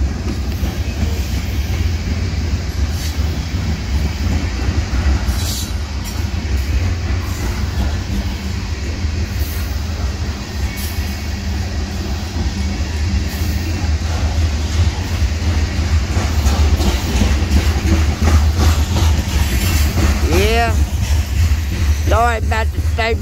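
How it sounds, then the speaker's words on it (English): Old train cars rolling past at close range, a steady loud rumble with faint rhythmic clatter running the whole time and squealing wheel tones rising near the end. "them old train cars come by"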